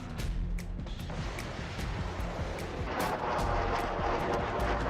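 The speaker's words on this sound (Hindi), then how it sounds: "इजरायली तोपें गरज रही हैं" Israeli artillery guns fire repeatedly in Lebanon, a dense run of sharp, booming reports over a constant loud rumble of distant fire and background noise.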